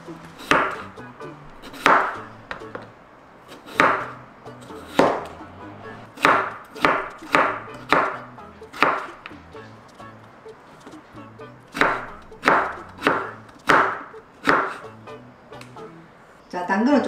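A knife chops potatoes on a cutting board for a stir-fried potato dish, giving a run of crisp, evenly spaced thuds in bursts, close and clear, with brief pauses between.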